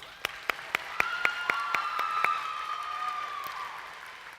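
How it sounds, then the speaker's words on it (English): Applause from a convention audience after an award sponsor is introduced, opening with a few sharp separate claps over a sustained tone, then a light spread of clapping that thins and fades toward the end. "Let's give our award sponsor and star partner one big round of applause."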